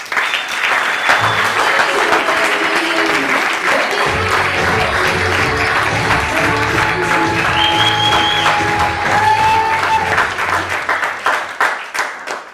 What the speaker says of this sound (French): Mesdames et messieurs, s'il vous plaît, un tonnerre d'applaudissements pour Jessica.